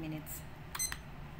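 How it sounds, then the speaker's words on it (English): A kitchen timer gives brief, high electronic beeps as it is started while a creamy lasagna sauce cooks, heard faintly over steady kitchen background noise. "So our timer is set to 20 minutes."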